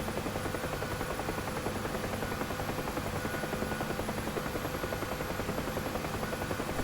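Steady, loud rotor thump and turbine whine of a UH-1H Huey helicopter in the DCS flight simulator, droning continuously with an even rhythmic beat and no voices.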